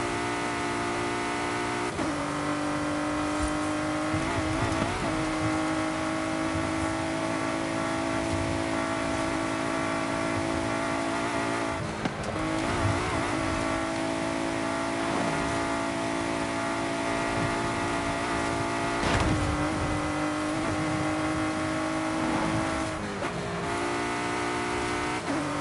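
A race car engine in Forza Horizon 5 holds a steady high drone while driving, with repeated shifts and revving swells, loud and close with no talk.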